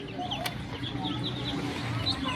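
Twenty-day-old Chinese goose chicks peep and chirp in a crowd, with repeated high calls over a low background and some talk nearby.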